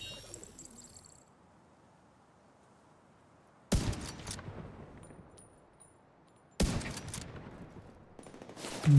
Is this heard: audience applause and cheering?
no